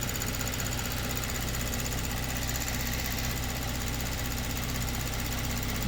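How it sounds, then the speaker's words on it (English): Fuel pump running on a Kia Stinger with a low fuel pressure fault, a dense continuous hum and buzz heard up close, steady and unbroken throughout. "I can hear that pump going."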